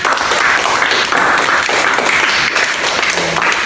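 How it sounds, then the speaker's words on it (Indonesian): Classroom applause for a student: dense, continuous clapping from many children, loud and close, holding steady throughout with no talk over it. "tepuk tangan untuk Lela"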